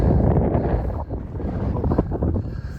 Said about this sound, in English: We thought we got rid of the wind, but it's back.